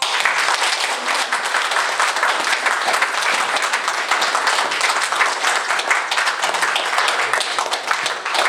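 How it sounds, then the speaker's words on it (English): An audience at a Refugee Day community event gives a steady round of applause. The clapping is dense and continuous, holds at an even level for the whole stretch, and has no speech over it. "A round of applause again."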